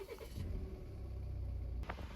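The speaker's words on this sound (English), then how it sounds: "Now I'll start the engine." A Volvo car engine starts and settles into a low, steady idle, a brief close rumble with no voices.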